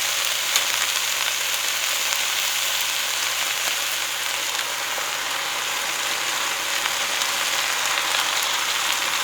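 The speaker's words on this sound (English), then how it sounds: "I'm going to turn the heat down and add our sauce" Sauce poured into a hot pan hisses and sizzles in a steady, dense crackle at a loud, close level, with a faint low hum underneath and no talking.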